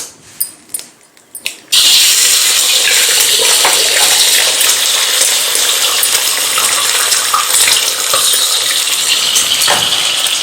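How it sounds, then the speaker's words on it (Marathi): Eggs are cracked into hot oil in a kadai while making chicken fried rice: a few soft taps come first, then a loud, steady, hissing sizzle that fills the rest of the clip. "आता आपण यामध्ये ही अंडी फोडून घालूया"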